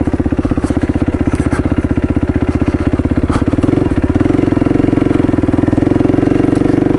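Motorcycle riding up a dirt road, its engine thumping in a steady, loud, close rhythm that swells a little as it pulls harder midway through, with no talking.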